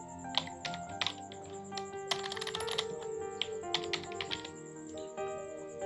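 Keys clatter in quick irregular bursts as text is typed into a PowerPoint slide on a computer keyboard, close and clear, with no talking.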